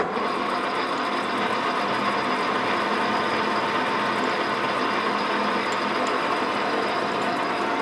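A lathe-type machine tool takes a 2 mm cut along the length of a metal shaft in a workshop, giving a steady, continuous mechanical whirr and grind with a faint ratcheting texture, close and unbroken.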